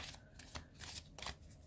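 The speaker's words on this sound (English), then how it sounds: "These are an easier size for me to shuffle." A deck of smaller-sized tarot cards is shuffled softly by hand in several quick riffling bursts, close and quiet with no talking.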